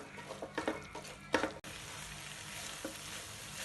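Chana masala cooking in a pan sizzles softly while a spoon stirs it, a few scraping strokes in the first second and a half, then a quieter continuous fry with no talking.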